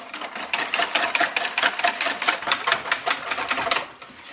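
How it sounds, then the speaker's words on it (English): Sugar being whisked into melted butter in a bowl for cornbread, a fast, even run of scraping, rattling strokes close up, each stroke distinct and steady for a few seconds. "So I'm just going to keep whisking this until I can no longer feel the sugar gritty in there."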